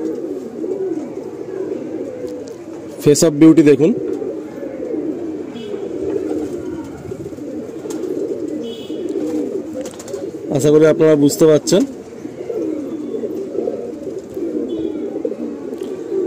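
Sale pigeons kept in a loft keep up a continuous, throaty, low cooing that runs from start to finish, and someone speaks over it in two short bursts.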